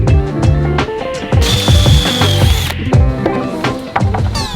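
A power drill bores pocket holes in wood bookcase boards, with repeated short whirring bursts and one longer high-pitched run in the middle, close and loud with knocks and clatter of the boards in between.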